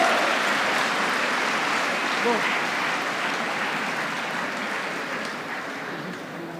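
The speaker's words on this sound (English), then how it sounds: "Let's give them a huge round of applause." Sustained applause from a large convocation audience in a hall, a dense, steady wash of many hands clapping that slowly fades slightly over several seconds.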